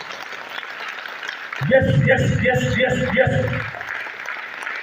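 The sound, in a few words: audience clapping with raised hands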